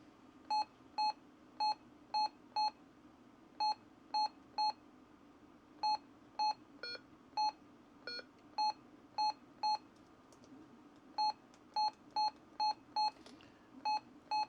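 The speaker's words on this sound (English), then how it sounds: "In order to check out the microphone, I like to turn the beep on" Keypad beeps from the buttons on a Baofeng radio's hand microphone, a series of sharp, identical electronic tones pressed one after another in short bursts with brief pauses, clear over a quiet background.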